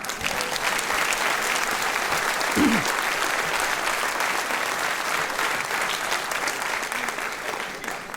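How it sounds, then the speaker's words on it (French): Sustained applause from an audience at a municipal New Year's greetings ceremony in Mennecy, a steady dense wash of clapping throughout with a brief voice or cheer partway through. "vous pouvez l'applaudir"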